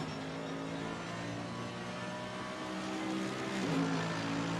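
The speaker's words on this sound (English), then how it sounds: "The cars sound so smooth." GT3 race cars in a racing game hold a steady, smooth engine drone throughout. The pitch shifts slightly as revs change near the end, and there is no commentary over it.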